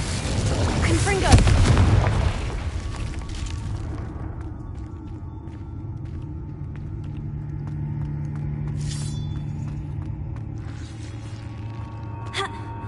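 A Confringo spell from Hogwarts Legacy on PS5 sets off a loud booming blast with a rumbling roar, fading into a low sustained rumble and a few later crackling bursts.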